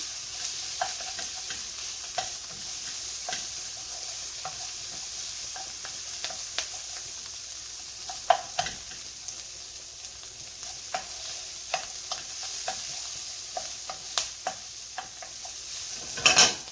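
Mushrooms and onions sauté in olive oil for a creamy mushroom sauce, a steady close sizzle broken by scattered clicks and scrapes of a utensil stirring the pan, with no voice over it.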